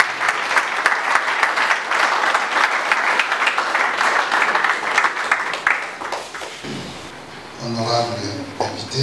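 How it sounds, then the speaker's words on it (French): Audience applause and cheering fill a ceremony hall at an official launch event, dense and sustained for about six seconds before fading, with a voice beginning to speak over a quieter tail near the end. "Sous vos applaudissements et acclamations."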